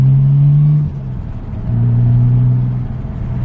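A Nissan R33 Skyline car engine with an LS swap revs up, drops back briefly, then climbs again into a steady higher drone, loud and close with a low rumbling tone.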